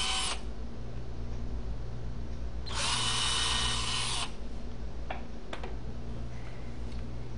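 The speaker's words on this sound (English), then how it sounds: "Drill pilot holes at the two marks with a small bit." Two short bursts of a small power drill whirring as it drills pilot holes with a small bit, one near the start and a longer one mid-clip, with faint ticks and a low hum between.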